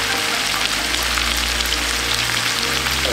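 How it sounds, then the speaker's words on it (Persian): Beef and split pea stew ingredients frying in a pan, a steady, close, dense sizzle and crackle running without break, with no voices. "داره سرخ میشه"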